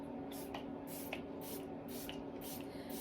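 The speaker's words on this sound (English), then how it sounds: "so I'm just going to use my Tarte Stay Spray" Tarte Stay Spray makeup setting spray misted in five short, soft bursts at an even rhythm, close and quiet.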